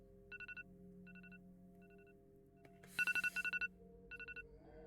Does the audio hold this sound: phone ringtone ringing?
yes